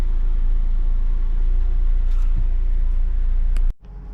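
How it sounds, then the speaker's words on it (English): Acura RSX with a badly worn clutch reversing into a shop, a loud steady low engine rumble that runs evenly and then cuts off abruptly near the end. "Me backing a RSX into the shop."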